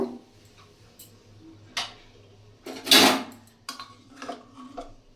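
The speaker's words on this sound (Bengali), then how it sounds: "এবার প্রেসারের ঢাকনাটা খুলে দেখব" A pressure cooker lid being opened after cooking dal, heard as a few metallic clanks and knocks, with one louder clattering burst in the middle and lighter taps before and after, close by in a quiet kitchen.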